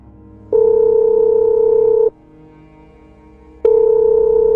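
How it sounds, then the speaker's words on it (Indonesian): An unanswered phone call gives two long, steady ringback tones separated by a pause of about a second and a half. Both tones are clear and sound electronic, with no voice on the line. "Gua telepon Bapak aja lah."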